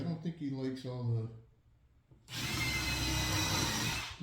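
Someone talks briefly, then after a short pause a power tool drills or saws through wood for DIY storage shelves, a loud, steady burst lasting about two seconds close by.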